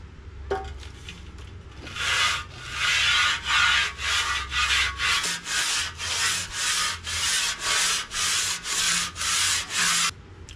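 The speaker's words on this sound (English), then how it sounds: "Got this 2x4 piece of tubing here, nice and flat, and some sandpaper, and we're just gonna take all that shit off of there" Hand sanding with sandpaper wrapped on a flat 2x4 metal tube, a steady run of rhythmic back-and-forth scraping strokes, close and fairly loud, with no talking.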